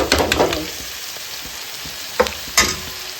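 Tender jackfruit being stirred and fried in a pan, with a steady close sizzle and a few sharp scraping stirs near the start and end, no voices.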